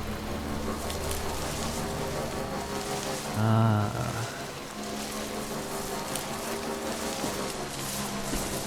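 Heavy rain pours down in Death Stranding, a dense, continuous hiss of falling water heard close up, with a brief louder tonal burst in the middle.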